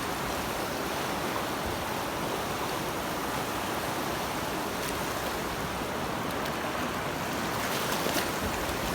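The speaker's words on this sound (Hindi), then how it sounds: "पानी की ऐसे लहरें, और इतना स्पीड में पानी है ना" Fast-flowing floodwater surges through a flooded area in Oman, a loud, steady broadband roar of rushing water and waves filling the whole stretch without a break.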